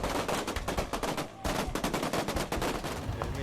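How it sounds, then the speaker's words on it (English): Live bullets fired at protesters during Venezuela's May Day unrest: rapid, repeated gunshots crackle in a dense burst, with a brief pause partway through before the firing resumes. "Police and military responded, first with tear gas, then live bullets."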